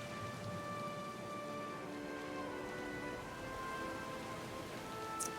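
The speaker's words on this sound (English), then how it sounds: "Wind calms, but the rain pours down from the sky." Steady heavy rain and thunderstorm from the video game Pillars of Eternity II pours down with a low rumbling undertone and a sustained droning hum, continuous throughout with no speech.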